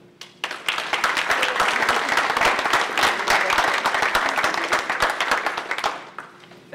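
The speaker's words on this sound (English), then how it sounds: "So please join me in giving these students a round of applause for representing our school at Phi Theta Kappa." A commencement audience applauds graduating students honored for Phi Theta Kappa, dense clapping swelling quickly and holding steady at full strength for several seconds before tapering off near the end.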